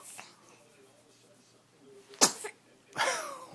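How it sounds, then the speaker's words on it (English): A single sharp, loud sneeze bursts out close by, followed moments later by a second noisy, breathy burst, with quiet room tone before and between. "Oh, got the big sneeze on camera."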